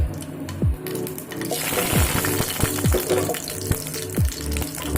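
Panch phoron, bay leaf and dried and green chillies frying in mustard oil for a ridge gourd curry, a steady loud sizzle and crackle with a few low pops and clatters of utensils close by.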